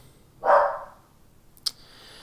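Household dogs bark, probably at someone outside: one single muffled bark from somewhere off in the house, followed by a brief faint click.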